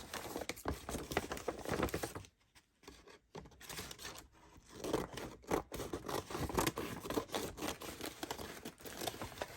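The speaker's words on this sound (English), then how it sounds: "Scissors." Close, crisp snipping and rustling as scissors work through paper, with brief quiet pauses between stretches of cutting.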